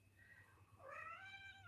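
A cat meows in the background, a single drawn-out, rising and falling call over a low steady hum, fairly faint and with no talking.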